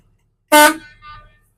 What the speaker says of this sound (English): my air horn is properly mounted, not been broken or cracked, and working properly.